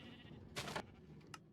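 A sheep on a sheep farm in the video game Minecraft gives a short nasal bleat, then a fainter, briefer one a moment later, over a quiet background hum.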